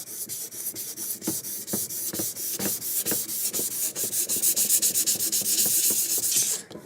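A sanding block rubs back and forth over a lacquer wood finish, making steady, close scratchy strokes in a regular rhythm that stop abruptly near the end.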